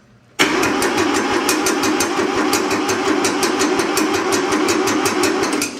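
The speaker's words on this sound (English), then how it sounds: "we're just gonna listen to it crank" A 50-year-old Kubota tractor's engine cranking without the glow plugs, kicking in abruptly and churning loudly and steadily in a fast rhythmic pulse up close, with no voices.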